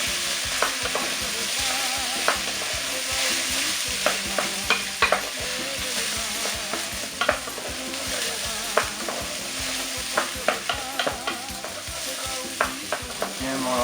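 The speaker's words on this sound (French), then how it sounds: "Alors, je vais tourner mon riz." Rice stirred in a frying pot with spices, a steady sizzle underneath repeated scraping strokes of the spoon that come at an irregular but steady pace throughout, close and fairly loud, with no voices.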